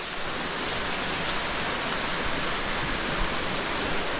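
Light rain falls steadily at a floodplain campsite, a soft, even hiss of drops with no voices or other distinct sounds over the whole stretch.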